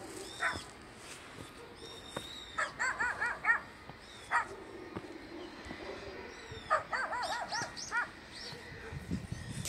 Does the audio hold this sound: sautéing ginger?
no